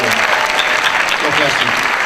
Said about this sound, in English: Big round of applause for our Parent Association.